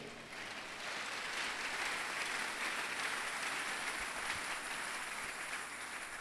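A church congregation bursts into sustained applause for the Lord, a dense, even wash of many hands clapping that fills the room steadily from start to finish with no voices on top.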